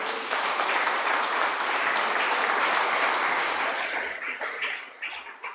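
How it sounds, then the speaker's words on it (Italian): Audience applause fills a Sunday church gathering with dense, sustained clapping from the start, holding steady before thinning and tapering off near the end, with no speech over it. "Facciamogli un applauso."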